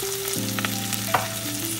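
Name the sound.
green chilies, onions and curry leaves frying in oil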